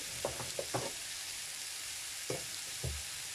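Steady broadband sizzle of cabbage frying in a pan, with a few soft clicks and knocks of utensils against the pan, no talking.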